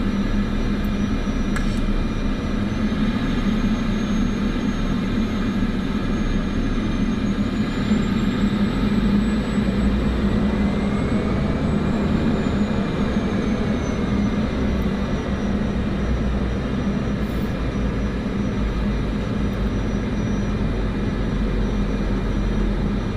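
An airliner taxis to the runway at Kathmandu in Microsoft Flight Simulator 2024, a steady, even jet engine drone with a low rumble and a faint high whine that rises and falls slightly midway, alone and unbroken.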